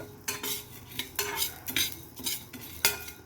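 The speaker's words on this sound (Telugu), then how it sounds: "మెంతులు వేసుకుందాము. ఇది ఇలా ఫ్రై చేసుకుందాం." Fenugreek seeds fry in a pan for sorrel leaf chutney, heard mainly as repeated close metal scrapes and clinks of a spoon stirring, in an uneven rhythm, with only a faint sizzle underneath.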